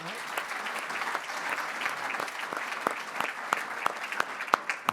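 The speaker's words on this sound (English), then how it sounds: "Let's round of applause." Sustained applause from a conference audience at a renewable energy session, dense clapping throughout with a few sharper, louder individual claps standing out toward the end.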